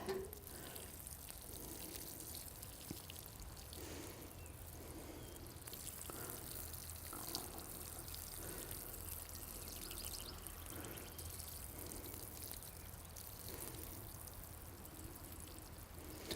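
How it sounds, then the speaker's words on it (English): Water is poured onto the soil around a newly planted garden plant, making a soft, steady trickling and splashing that continues throughout, quiet and close, with faint outdoor background. "And we want to water that in well."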